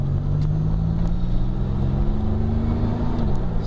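A car engine pulls away in first gear, its close, loud drone rising steadily in pitch, then easing off sharply near the end, with a few faint clicks above.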